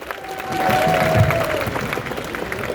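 A crowd at a public meeting in Mohammadpur breaks into sustained applause, with a thin whistle gliding above the dense clapping and a faint murmur of voices underneath.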